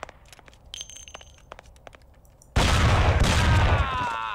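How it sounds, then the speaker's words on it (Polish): Gunfire from the video game Mafia: sparse light clicks and a short ringing tone, then a sudden loud shot bursts in with a heavy boom and a reverberant tail. "Akurat mam dwa strzały dla gościa."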